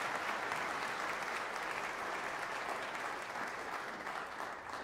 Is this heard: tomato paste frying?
no